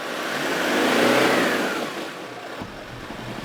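A Toyota Land Cruiser 70 series with both axles locked revs hard as its wheels spin in wet mud on the Holland Track, the engine roaring loudly, then easing back to a lower drone.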